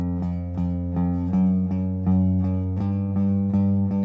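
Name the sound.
electric guitar alternate picking pattern across strings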